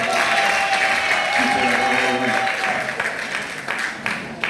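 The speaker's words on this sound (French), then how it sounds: "Est-ce qu'on peut applaudir très fortement?" Charity gala crowd in the DRC applauds a family's donation, a sustained roar of clapping that swells, then thins toward the end as a voice comes through.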